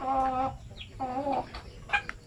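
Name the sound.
native chickens clucking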